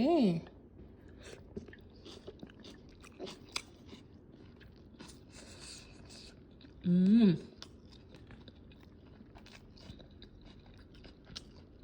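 Someone eating chicken dum biryani with rice, squeezed lemon and onion, heard as soft close-up chewing and crunching throughout, with brief bursts of voice at the start and near the middle.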